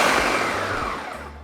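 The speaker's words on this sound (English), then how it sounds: "now we're just going to blend until we have a very smooth sauce" A blender whirs loudly and steadily as it purees mole de olla sauce with epazote and beef bouillon, a dense continuous roar close by that eases slightly toward the end, with no talking.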